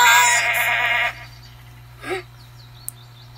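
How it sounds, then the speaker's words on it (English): A goat gives one loud, wavering bleat lasting about a second, followed by near-quiet with a low steady hum and a faint click. "A goat? Was that a goat?"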